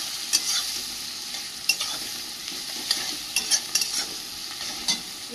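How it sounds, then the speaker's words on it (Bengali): Onions fry in a pan with salt and turmeric, giving a soft, continuous sizzle, while a utensil scrapes and knocks against the pan in irregular bursts as they are stirred. Nobody speaks. "পেঁয়াজটা ভালো করে ভাজা ভাজা করে নেব।"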